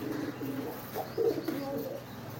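Pigeons kept by a breeder coo softly nearby, with a few low rounded calls rising over a steady background murmur.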